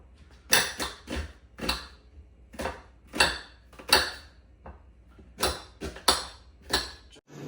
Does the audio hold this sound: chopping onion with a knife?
yes